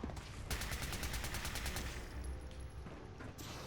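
Rapid automatic gunfire from the video game Fallout 4, a dense burst of evenly spaced shots that fades into a rumbling battle ambience, loud and close with no talking.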